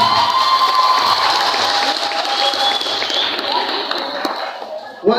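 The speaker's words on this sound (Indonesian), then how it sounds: "Tepuk tangan." Audience applause and cheering from a crowd at a humorous Indonesian Islamic sermon, a dense steady wash of clapping with scattered shouts and voices mixed in, fading toward the end.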